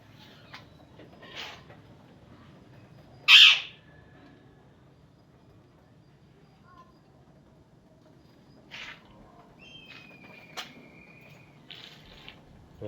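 A myna bird gives scattered short chirps and one drawn-out whistle, moderately close but faint, over a low background rumble with no speech.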